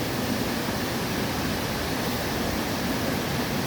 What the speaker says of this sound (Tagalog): Dito po kami sa Agbalala Falls.